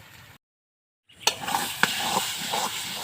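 Food being stirred and dried in a pan on a stove: after a brief silence, a soft sizzle with scraping stirring strokes and occasional sharper clicks of the utensil against the pan, close up.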